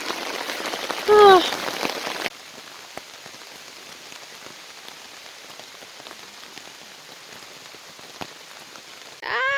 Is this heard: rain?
yes